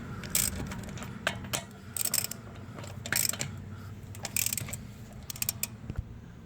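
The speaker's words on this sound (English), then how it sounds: "We're going to go ahead and break these lugs loose." A 21 mm lug wrench breaks loose the wheel lug nuts on a Nissan Altima, giving several separate close metallic clicks and ratcheting clanks spread across the clip, with no talking.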